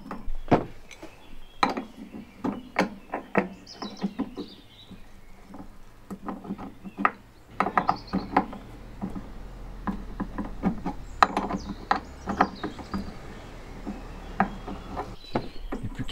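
Hose clamp being tightened on a gas hose during a gas installation in a Volkswagen Transporter T6.1 van conversion: a string of sharp clicks, taps and scraping ticks in irregular bursts, close and alone without talk.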